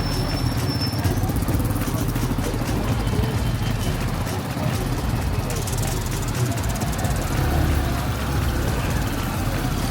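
Motorcycle engines drone and buzz steadily nearby in a Rio de Janeiro favela, a continuous traffic rumble with passing bikes throughout.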